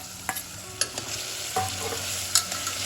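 Mixed vegetables (peas, carrots, green beans) and cauliflower fry in a pan with a steady sizzle, broken by several short clinks and scrapes of stirring, close and moderately loud with no talk.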